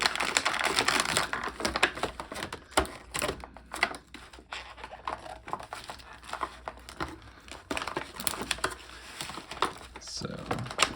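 A dull knife works at plastic tags holding action figures in their packaging, giving close scraping, crinkling and snapping sounds in irregular bursts, with brief pauses and some noisy handling throughout.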